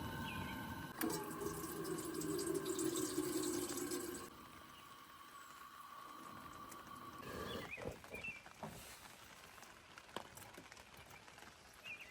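Steady watery rushing and patter like heavy rain, loud at first and then softer, with occasional drips and knocks.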